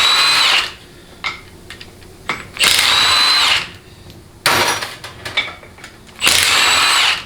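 An impact wrench removes bolts from a 4L60E automatic transmission during a teardown in a workshop, firing in three or four loud, close bursts of about a second each, separated by quieter pauses with faint clanks.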